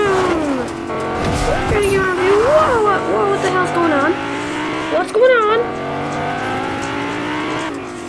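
A car drives in the video game Fortnite, revving engine tones rising and falling with tire squeals and skids, close and loud, while a person talks excitedly over it.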